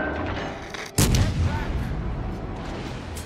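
A warship's heavy naval gun in a naval combat game fires one sharp booming blast, followed by a rolling rumble and lingering battle noise, with faint radio-style voices in the background.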